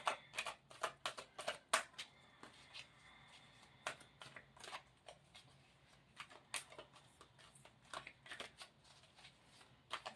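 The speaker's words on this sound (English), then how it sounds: "And I pre-shuffle like I always do." Quick bursts of tarot cards being shuffled, riffling in short flurries with brief pauses between them, close and fairly quiet.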